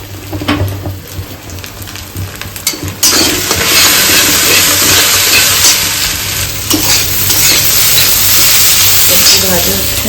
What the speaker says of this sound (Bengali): এখানে চাউমিনের জন্য ডিম ভাজা হচ্ছে